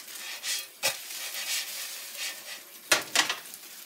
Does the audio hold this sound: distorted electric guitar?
no